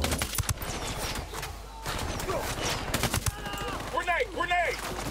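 Rapid gunfire bursts in the tactical shooter Ghost Recon Wildlands, loud and close, with a voice talking over the shots and game sounds between bursts.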